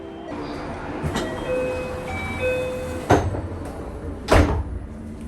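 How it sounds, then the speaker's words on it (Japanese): Train doors close at Fukui Station on the Hokuriku line, two sharp thuds amid platform hum, chime tones and faint background talk. "列車の扉が閉まります。"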